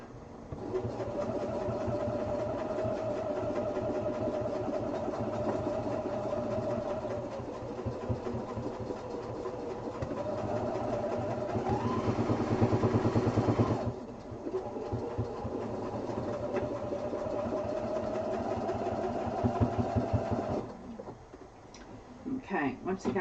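A sewing machine stitching a quilted duffel bag hums in long steady runs, briefly pausing and restarting, close and continuous throughout.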